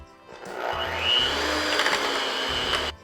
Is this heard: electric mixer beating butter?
yes